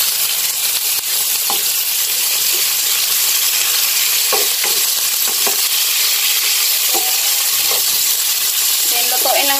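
Meat for pinakbet fries loudly in a pan with a constant bright sizzle, while a utensil scrapes and clinks against the pan at scattered intervals.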